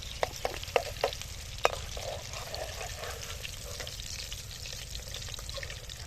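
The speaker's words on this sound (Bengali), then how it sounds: "এটা লো ফ্লেমে আস্তে আস্তে করে ভাজতে হবে" Chicken satay pieces frying in oil over a low flame give a steady close sizzle, with sharp crackles and pops early on that settle into a continuous hiss, with no talking.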